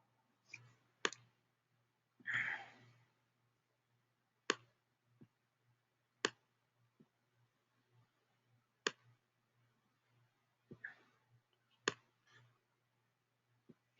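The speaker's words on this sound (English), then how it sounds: "I'm clicking on save." A computer mouse clicks in a quiet room: sharp, separate, close-up clicks at irregular intervals, with a faint steady hum behind them and no speech.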